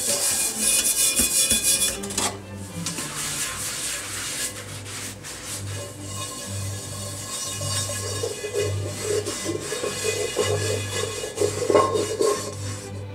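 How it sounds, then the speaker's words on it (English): A cast iron chicken fryer is scrubbed down to bare metal with a harsh, gritty rubbing, loud and close in repeated back-and-forth strokes with short breaks. "we just have to give it a good scrubbing to get it down to the bare metal"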